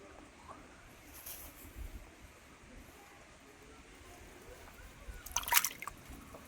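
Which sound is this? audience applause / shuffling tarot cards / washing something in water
washing something in water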